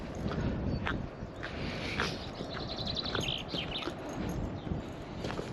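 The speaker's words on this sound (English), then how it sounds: "Just love the bird song" Birds chirping and singing on a beach on a bright day, scattered tweets and short calls over a steady windy outdoor rumble, moderately distant and soft.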